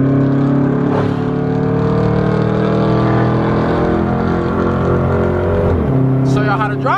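A Dodge Charger SRT8 engine accelerates hard, a loud steady roar with exhaust pops near the end, as someone talks over it.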